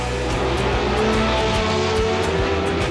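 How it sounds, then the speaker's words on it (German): A Porsche 917 race car engine roars loud and steady at a Hockenheimring CanAm revival event, a dense, continuous mechanical howl with no talk over it. "Der Porsche 917, eine Motorsport-Ikone."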